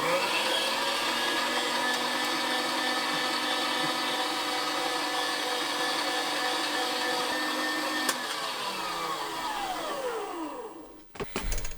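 Electric meat grinder running ground venison back through to clear the shaft, a loud steady motor whine with grinding texture, then the motor pitch drops as it winds down and stops near the end.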